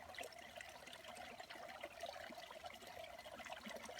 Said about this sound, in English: water underneath this land rising into the springs and flowing into these ponds